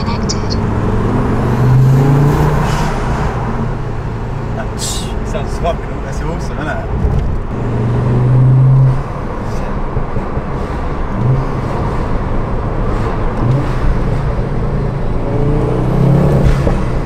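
A car with a sports catalytic converter and aluminium induction kit rumbles and revs with a deep exhaust note, building and easing several times while people talk over it.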